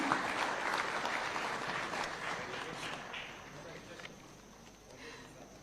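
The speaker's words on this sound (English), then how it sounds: "A round of applause, ladies and gentlemen." Sustained audience applause fills a hall during a Tax Day awards ceremony at State House, Kenya, a dense wash of clapping that slowly thins and fades toward the end.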